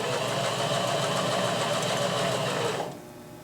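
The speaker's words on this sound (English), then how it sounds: "I can move my width up, put my length wherever I desire, and sew a nice, neat zigzag" A Janome HD3000 sewing machine stitching a zigzag, a close, steady rapid mechanical whir and needle rattle running continuously before stopping abruptly near the end.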